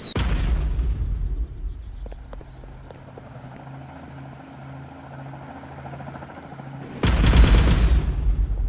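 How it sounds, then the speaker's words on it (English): Cobra missiles and gunfire in the Roblox game Mad City: a loud rumbling blast opens, then a quieter stretch of low droning engine hum and thuds, before a sudden heavy explosive burst near the end. "Yeah, it doesn't do anything against Cobra missiles."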